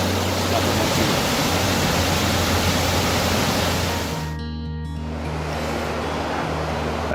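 Steady broadband rush of water at Foster Falls on the Fiery Gizzard Trail, a constant roar heard from nearby with a brief dip in the middle.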